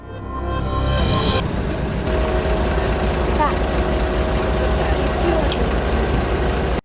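A bus engine idles steadily at close range, a low continuous rumble with a brief hiss near the start and faint background voices.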